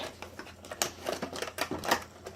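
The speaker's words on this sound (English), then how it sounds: "That's why we have our trusty blade right here." A blade slices through the cardboard packaging box of an Outdoor Tech Buckshot Pro Bluetooth speaker, making a close series of sharp, uneven scraping and crackling bursts at a quiet level.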